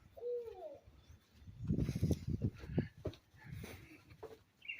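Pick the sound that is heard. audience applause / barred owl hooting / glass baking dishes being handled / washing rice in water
barred owl hooting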